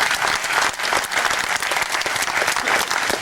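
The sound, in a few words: applause for neighborhood police officers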